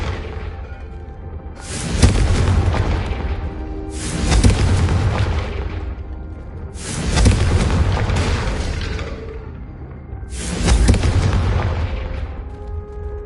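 Four Confringo spell explosions in Hogwarts Legacy, each a loud, deep boom followed by a rumbling decay, spaced about every three seconds with no speech.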